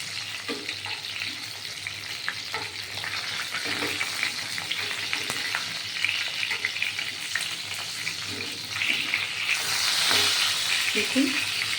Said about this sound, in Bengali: মাছ ভাজা হয়ে গেছে মাছ ভাজাগুলো সুন্দর এপাশ ওই পাশ উঠিয়ে দিয়েছি